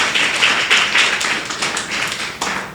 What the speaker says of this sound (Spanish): Era un aplauso al Señor.